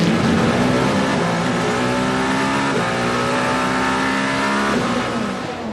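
Toyota Le Mans prototype race cars at the 24 Hours of Le Mans 2023 roar past at speed, a loud continuous high-pitched engine wail with shifting harmonic tones that sweep in pitch as the cars go by.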